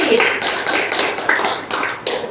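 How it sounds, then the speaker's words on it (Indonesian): A small classroom group applauding during an Islamic studies lesson, a quick burst of uneven hand claps lasting a couple of seconds, close and fairly loud. "Tepuk tangan dulu buat Ananda Suci."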